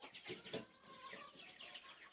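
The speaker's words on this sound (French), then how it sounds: "là on arrive dans les jeunes poulets que j'ai rentrés à 3 semaines" Three-week-old young chickens, yellow and naked-neck birds, cluck softly in a farm enclosure with a few quick, quiet calls overlapping at a short distance.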